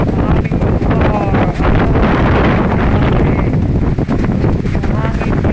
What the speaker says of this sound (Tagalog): Ang lakas ng hangin, daming nasira dito.